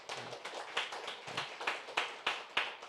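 A church congregation claps in a loose, fairly quiet rhythm, a handful of brisk overlapping claps repeating at roughly even intervals in a reverberant hall.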